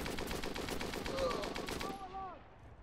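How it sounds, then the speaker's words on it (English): Bren light machine gun firing in a WW2 first-person shooter game: a rapid, even burst of automatic shots at moderate distance, cutting off abruptly before a short tail of fading echoes. "There's a German with a Bren gun."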